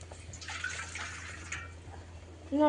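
Water runs and splashes as it is poured into a pot for peeling boiled eggs in a home kitchen, a soft trickling hiss lasting a couple of seconds before a brief clank at the end.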